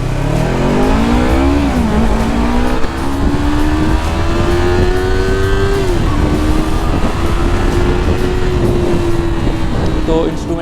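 A 2024 Yamaha R3 motorcycle engine revs steadily and loudly to high RPM, its pitch climbing, dipping briefly, then holding a sustained high whine close by, with no other sounds over it.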